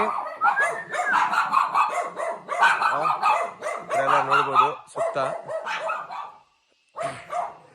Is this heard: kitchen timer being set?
no